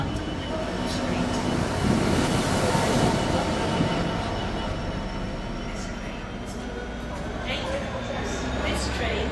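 A Greater Anglia train at Stratford station, with a steady loud rumble of rolling railcars and wheel noise filling the platform, faint high squeals and a broadband roar holding throughout.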